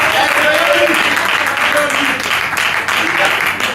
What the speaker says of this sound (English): Please let's give a round of applause to all our participants.